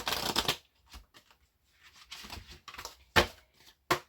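Oracle cards are shuffled and pulled from a deck at close range, with a dense riffling burst at the start, then scattered soft flicks and two sharp card snaps.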